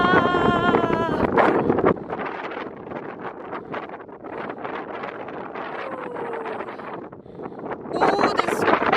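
Strong wind buffets the microphone on the summit of Gaustatoppen mountain in Norway, a steady roaring rush with gusts near the start and end, while voices talk over it.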